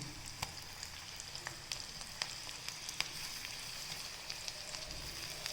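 Ginger garlic paste and onions fry in a hot pan for a fish and cauliflower curry, a soft continuous sizzle dotted with small crackles and pops, fairly quiet and alone.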